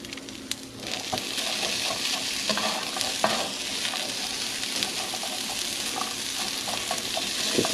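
Food sizzles steadily in a frying pan while being stirred, a continuous crackling hiss with scraping strokes of the stirring, close and fairly loud throughout with no talking.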